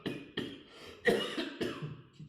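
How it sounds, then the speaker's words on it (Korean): Several harsh coughs in a row, close and fairly loud, with short pauses between bursts. "기침할 수도 있어요."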